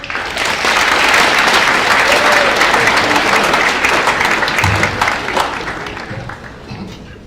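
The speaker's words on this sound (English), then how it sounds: "So please give him a big round of applause." An audience at a Holocaust survivor presentation gives a speaker a big round of applause: loud, dense clapping from a crowd that swells quickly, holds steady, then tapers off, with a few brief low sounds near the end.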